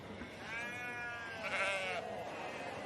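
A sheep bleats from the sheep ring at an agricultural show, one drawn-out wavering call followed by a second, fairly distant and low in level over faint crowd ambience.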